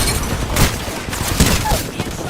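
Rapid gunfire crackles in a shooter video game, a dense, loud run of overlapping shots with a few sharper cracks standing out, with voices faintly under it.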